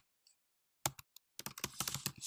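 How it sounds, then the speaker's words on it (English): Typing on a computer keyboard: a few isolated key clicks, then a quick, dense burst of close, crisp keystrokes with no voices. "you just click in the box and start typing"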